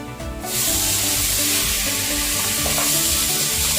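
Four medium chopped tomatoes hit hot oil in a pan for tomato rice, bursting into a loud, steady sizzle and crackle that continues evenly throughout, with no voices.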